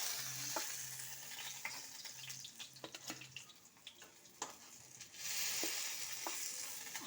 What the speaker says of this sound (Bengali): আওয়াজটা হচ্ছে তেলটা ঝরিয়ে নিচ্ছে বলে একটু